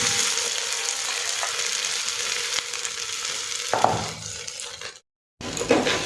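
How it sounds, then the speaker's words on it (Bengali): Rice being stirred and fried in a pan on a home stove gives a steady close sizzle with soft scraping of the spoon, broken by a brief gap of silence before the frying noise returns. "তাহলে চালটা একটুখানি ভেজে নেব।"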